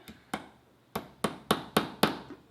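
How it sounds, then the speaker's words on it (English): Seven sharp hammer strikes driving in a picture hook, close and crisp, spaced irregularly at first and then falling into a steady rhythm, with no talking. "Hammer it in."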